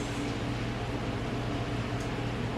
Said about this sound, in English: It has sizzling.